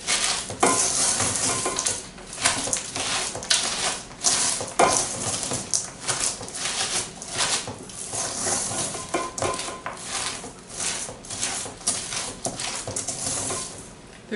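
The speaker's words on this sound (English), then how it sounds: "So you need to stir this until it's well mixed." A spoon works through a gluten-free crispy rice cereal mixture with chocolate chips in a bowl, giving a continuous crunchy, scraping stir with rustling and repeated knocks against the dish, close and fairly loud.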